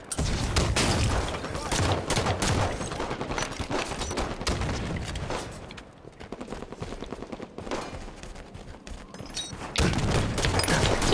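Rapid gunfire and grenade blasts fill a Halo 5 multiplayer match in a dense, continuous barrage. Overlapping shots and booms continue with only a brief lull midway.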